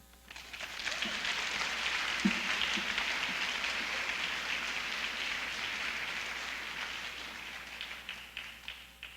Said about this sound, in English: For this hand, you deserve a round of applause.